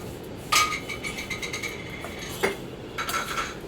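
A utensil scraping and clinking in a pan while vermicelli is stirred and roasted for kheer, heard as a few close metallic scrapes and taps, moderately loud, with no talk over it.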